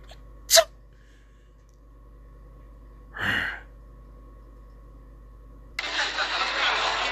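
A single sharp sneeze near the start, later a softer breathy burst, then a rough engine-like rumble rising toward the end.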